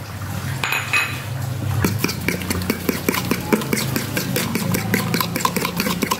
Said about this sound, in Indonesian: Nanti kita akan kocok dengan gula pasir ya teman-teman.